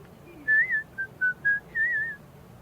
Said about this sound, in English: You can whistle while you work if you like.